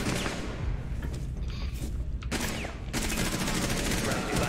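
Bursts of automatic gunfire in Rainbow Six Siege, dense rattling volleys with a short gap before a final sustained spray, fairly loud against game ambience.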